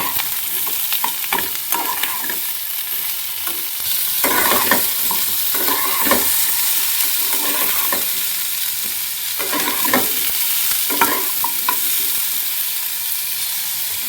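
Chopped onion frying in a pan, a steady broadband sizzle throughout with repeated scraping stirs of a utensil coming in bursts, close and fairly loud with no voices.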